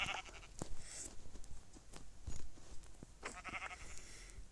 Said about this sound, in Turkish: Şu koyunları alalım.